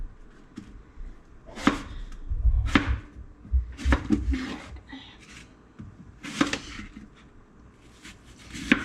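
A knife chopping apples into small pieces on a board, with their skins still on, while making green juice. Several sharp, close chops land at irregular intervals, some in quick pairs, between quiet stretches with occasional soft speech.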